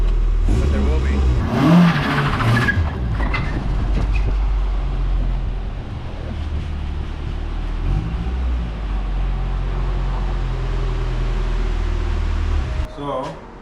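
A Nissan 240SX's KA24E single-cam engine, still without its turbo kit, idles with a steady, close low hum that runs almost the whole time, with a brief voice and clatter near the start.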